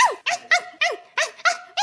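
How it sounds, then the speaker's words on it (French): Hornet, the silk-wielding character voiced for Hollow Knight and Silksong, performed as a doglike barking voice: a quick series of six sharp, yelping barks in steady rhythm, close and fairly loud with no other talk. "si vous vous demandez comment ça sonne Hornet qui aboie, c'est à peu près comme ça"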